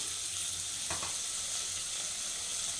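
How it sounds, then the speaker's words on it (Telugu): Onions frying in a pan for a tomato masala curry, a soft, continuous sizzle close by with a brief stirring scrape near the middle, and no talking. "ఉల్లిపాయలు కూడా మంచిగా ఫ్రై అవ్వాలి"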